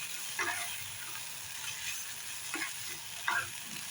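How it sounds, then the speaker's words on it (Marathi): Spiny gourd (kartoli) bhaji with onion and fresh grated coconut being stirred in a pan: soft scrapes and clinks of the spatula come in short, irregular strokes over a faint, steady sizzle, close and quiet, with no talk. "आता ओला नारळ घातल्यावरती थोडी परतली गेली पाहिजे म्हणून अजून एक दोन मिनटं परतून घेऊया"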